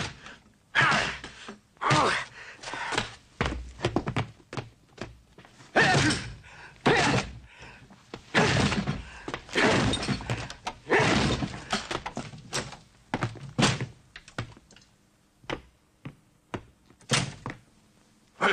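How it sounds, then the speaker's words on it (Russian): Repeated heavy thuds and creaking bangs against a door, irregular and forceful, with cracking impacts spread across the clip. "Ломайте дверь, кому говорю, а?"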